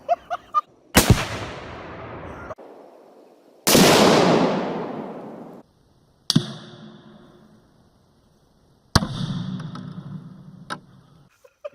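Tannerite exploding targets blow up a ratty old couch: four sharp, loud blasts spaced a few seconds apart, each with a long rumbling decay and debris crackle, heard outdoors with no talk.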